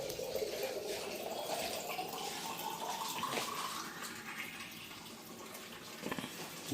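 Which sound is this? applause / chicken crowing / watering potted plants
watering potted plants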